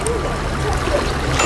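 Sea water at Alupka in Crimea, a steady low wash and trickle of gentle waves lapping close by, continuous and moderately loud with no clear breaks for the whole stretch.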